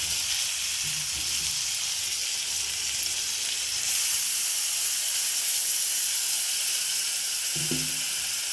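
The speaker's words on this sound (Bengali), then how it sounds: "অল্প জল দিয়ে মশলাটা কষিয়ে নিচ্ছি।" Spice paste with cumin powder sizzles and hisses steadily in a pan with a little added water while cooking a mourola fish curry, with a couple of brief stirring knocks.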